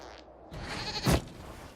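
A goat bleats once in Dragon Age: Inquisition, a short, loud nasal cry rising over quiet game ambience with no talk.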